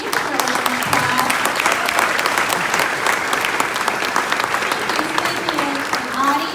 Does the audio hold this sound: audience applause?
yes